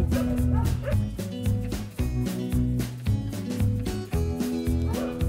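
An Australian cattle dog puppy at play, yipping and bow-wowing in quick bursts and whimpers, close and fairly loud over a continuous dense background.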